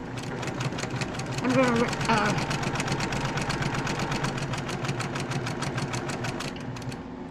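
A sewing machine stitches a quarter-inch quilt seam in a fast, steady rhythmic chatter of needle strokes, running close and continuous while a person talks briefly over it.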